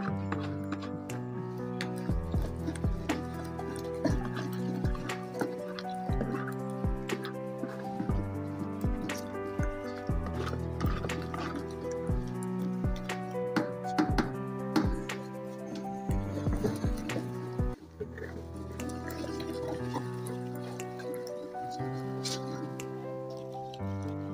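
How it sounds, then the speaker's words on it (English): A liquid soap mix made with nitrosol and light ash is stirred by hand, producing rhythmic wet clicks and squishy sloshing strokes close by over a steady tonal background. "So you stir very well to mix."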